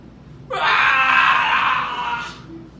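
Loud sustained screaming from a person during prayer at a church worship service, a single long wailing cry that rises abruptly, holds strongly and fades near the end, with no talk over it.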